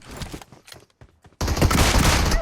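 Gunfire in PUBG Mobile: after a few scattered quiet sounds, a loud, sustained burst of automatic shots suddenly erupts close by and keeps going to the end.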